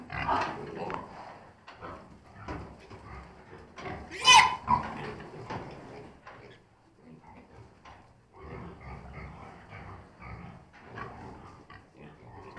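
Pigs grunting and snuffling close by, with one louder squeal in the middle, as people talk quietly in the background.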